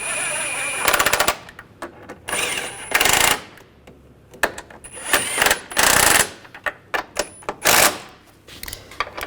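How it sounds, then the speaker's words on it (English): Bolts on a Volkswagen Tiguan strut assembly are run down with an impact or ratchet tool in several loud rattling bursts, separated by short pauses and metallic clinks. "Snug these bolts down."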